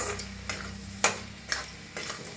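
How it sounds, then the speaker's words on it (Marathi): Egg bhurji being stirred in a pan after coriander and ghee are added, with a soft sizzle underneath and about five distinct scraping strokes at a steady, roughly half-second rhythm, close and fairly quiet with no talking. "आता वरनं टाकूया कोथिंबीर, तूप. मिक्स करून घेऊया."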